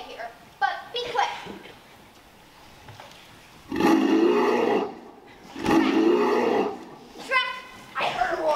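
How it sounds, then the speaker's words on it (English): A dragon roar from a stage production of Shrek the Musical: two loud, drawn-out roaring bursts that rise out of quieter background voices, with children's chatter and speech around them. "I heard a roar."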